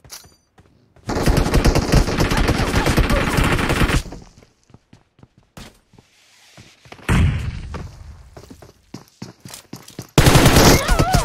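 Heavy automatic machine gun fire in the battle royale game PUBG Mobile, loud sustained bursts starting and stopping abruptly, separated by scattered single shots, thuds and quieter gaps.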